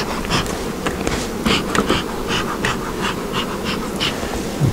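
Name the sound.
honey bees buzzing at an open hive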